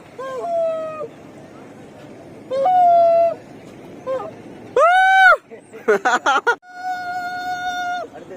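Loud goose-like honking calls come in bursts over the Ganga river during a boat ride, some drawn out and some quick and stuttering, over a quiet background hiss.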